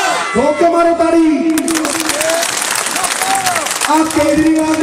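A crowd at a Punjab political rally claps loudly for about two seconds, a dense burst of applause between stretches of a man's amplified speech.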